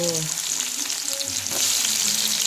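Onions sizzle steadily in hot oil in a pan, a loud, continuous frying hiss with faint stirring scrapes and no talk over it.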